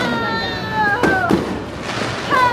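New Year's Eve fireworks burst in a couple of sharp, loud cracks amid a noisy outdoor celebration, with voices and shouting throughout.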